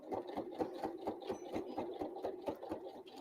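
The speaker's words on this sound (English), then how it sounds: "this is going to help me sew that pocket right to the edge" A sewing machine stitching a pocket onto an apron, a quick regular mechanical chatter of needle strokes, about four per second, close and steady throughout with no voices.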